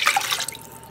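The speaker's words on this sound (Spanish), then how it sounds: "voy a poner con una tacita de agua más y vamos a ver que se cocine y evapore un poco lo que es el agua" A small cup of water poured into a cooking pan holding eggplant and chicken, a short splashing burst that trails off within a second, close and alone.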